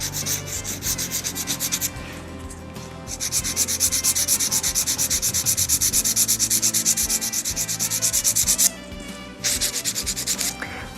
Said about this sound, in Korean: 시술자의 왼손으로 이 부분 지지해 주시고 파일링 작업 들어가겠습니다